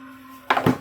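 A faulty hybrid cordless/corded fan runs with a steady low hum, then gives two loud, rough clunking bursts close by, with no talk.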